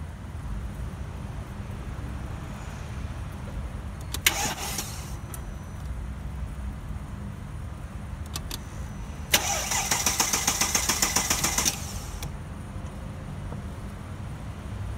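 A Mercedes ML engine cranks in two attempts, a brief stutter and then a longer grinding crank lasting a few seconds, heard over a steady low rumble of background noise.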